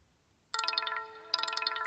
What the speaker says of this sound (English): that's my brother ringing me.